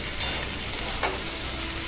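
Vegetables with ginger paste fry in a pan for a Pujo veg thali, giving a dense, continuous close sizzle with a couple of faint stirring scrapes.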